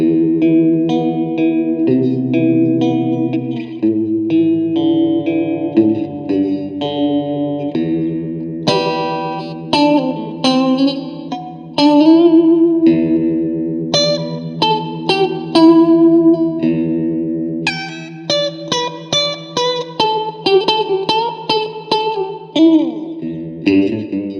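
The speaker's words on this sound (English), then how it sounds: "on the sort of full fast Leslie kind of sound" A guitar played through a clone of an MXR Phase 100 phaser pedal with a fast, swirling rotary-speaker-like sweep, chords and single notes ringing out loud and continuous, no talking.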